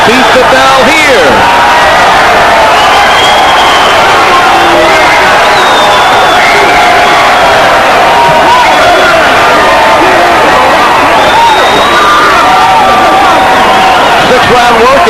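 A boxing arena crowd at a Roy Jones Jr. bout against Danny Garcia roars and cheers steadily throughout, a loud, dense wall of massed voices and shouts with no pauses.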